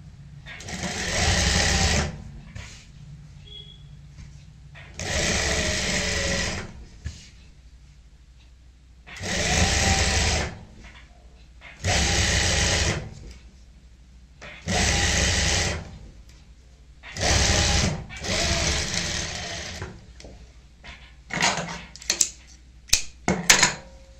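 A sewing machine stitches lace onto a Pakistani-style salwar in about seven sharp whirring bursts of a couple of seconds each, separated by short quiet pauses, with a few small handling clicks at the end.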